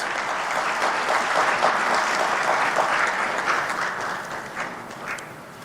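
A seated audience at an official launch of the African Peer Review Mechanism applauds the Honorable Minister, a dense, steady burst of clapping that holds for several seconds and tapers off at the end.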